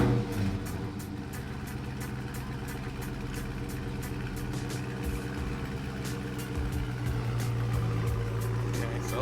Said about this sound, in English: It's been a few hours since my car started, so it'll be a semi-cold start.